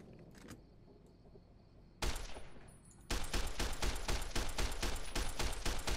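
Rapid automatic gunfire in Fallout: New Vegas as characters shoot each other: a brief burst, then a loud, sustained rattle of closely spaced shots that runs to the end.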